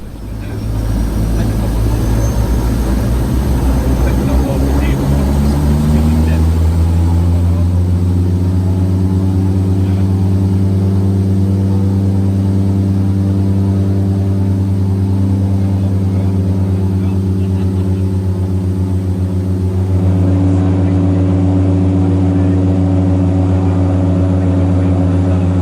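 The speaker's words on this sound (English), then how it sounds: "Twin Otters at Glasgow don't push back using a tug, instead they use reverse pitch on the propellers to power back from the stand." A Twin Otter turboprop at Glasgow airport powering back from its stand on reverse propeller pitch, a loud, steady engine drone with a deep hum whose pitch rises and settles into sustained tones, with no voices.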